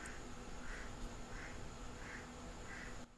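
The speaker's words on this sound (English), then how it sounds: "So that's the Wak Wak sound." A creature's call recorded in the Philippines sounds as five evenly spaced, faint, duck-like croaking notes against a steady hiss and a low hum.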